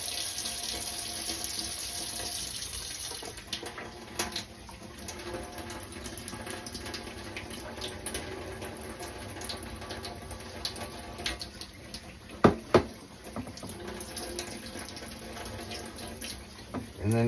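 Warm tap water runs steadily into a bowl for corn tortilla dough, a continuous close hiss with a few small clinks near the end.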